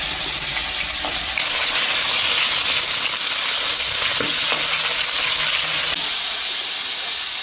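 Aair fish fry in hot oil in a pan with a loud, constant close-up sizzle and hiss, broken now and then by small spits and bubbling bursts.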